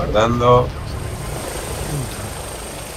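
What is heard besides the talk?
drone flying in video game Batman: Arkham Origins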